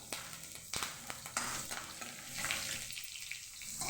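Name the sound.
tadka, spices frying in hot oil in a kadai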